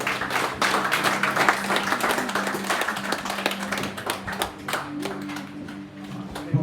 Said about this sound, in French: On peut les applaudir ce matin.